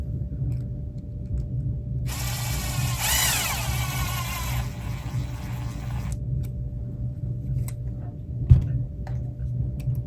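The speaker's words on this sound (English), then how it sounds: "never tighten on carbon fiber with a screw gun" A screw gun whirs for about four seconds, driving screws while building a Team Associated SC6.4 2wd short course RC truck, close by over a quiet background hum, then a single sharp tap.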